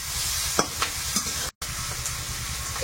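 Spices sizzle steadily in a hot pan for a loitta fish curry, turmeric, salt, coriander and cumin with chopped onion, green chili and ginger-garlic paste, with a few soft stirring knocks and one brief dropout.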